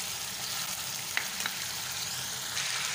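Beef karahi stirred and frying in a pan, a steady close bright sizzle with a couple of soft scrapes of the spoon, no voices.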